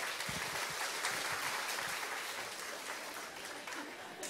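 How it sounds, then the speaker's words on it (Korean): A church congregation gives sustained applause during an award presentation at a Sunday service, heard as a dense, even wash of clapping from a large room. "인사할 때 큰 박수 부탁드리겠습니다"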